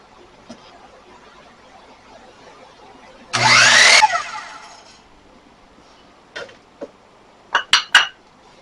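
A power saw cuts a wooden piece for Halloween decor in one short, loud burst of buzzing, followed by scattered clinks and clatters of the workpiece and tools in a quiet shop.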